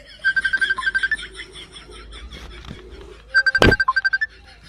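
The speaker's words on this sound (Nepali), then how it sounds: "बोयफ्रेन्डको फोन आउँदा" Mobile phone ringtone for an incoming call, a loud repeating electronic melody in two bursts of rapid pulsing notes, separated by a brief gap with background noise.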